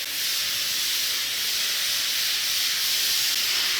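A packing machine for cold asphalt mixing runs in a factory, giving off a loud steady hiss like escaping air or steam with a faint low mechanical rumble underneath, continuous throughout.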